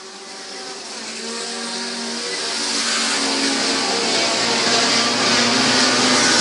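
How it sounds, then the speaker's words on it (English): Midget race cars circle a dirt oval at the Belleville Midget Nationals. Engines drone loud and close, with overlapping high-pitched revs that swell steadily as the pack passes, and no voices heard. "2 laps to go for Rico Abreu."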